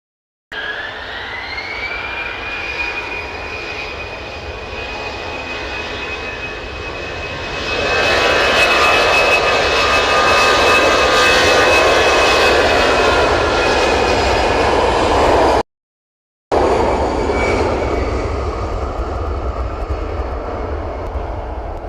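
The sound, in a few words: twin-propeller aircraft engines at Manchester Airport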